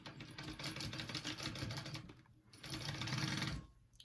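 A sewing machine runs at a rapid, even stitching rhythm while basting a wallet flap, stopping briefly midway before a second short run, quiet and close.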